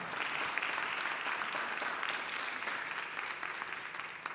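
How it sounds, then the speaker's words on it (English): Townhall audience clapping for event sponsors, a continuous, fairly faint patter of hands from a crowd in a room, even in level from start to finish with no speech over it. "Let's give them a round of applause for"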